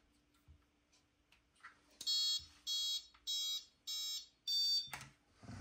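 A King Motor Dark Knight Baja RC car's radio system buzzer sounds five evenly spaced electronic beeps, each about half a second long, in a quiet room.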